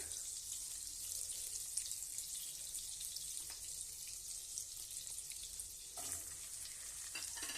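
Oil and butter sizzle in a frying pan with a continuous, even, high hiss and fine crackle, quiet and steady throughout.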